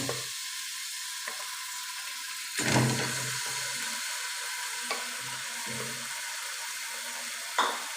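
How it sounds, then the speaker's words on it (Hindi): Chicken sizzling as it fries in a pan for chicken nehari, a steady hiss with a few louder bursts where the pieces are stirred or turned, close and continuous, with no talking. "अब इसमें चिकन ऐड करेंगे और इसे अच्छी तरह से फ्राई कर लेंगे जब तक ये बिल्कुल वाइट हो जाए।"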